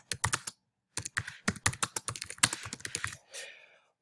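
Quick bursts of typing on a computer keyboard, key clicks in uneven rhythmic runs with a brief pause, close and clear, no voices.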